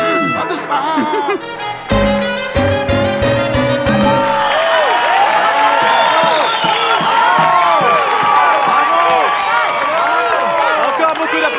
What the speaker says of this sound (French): Encore beaucoup d'applaudissements pour Grupo Niche.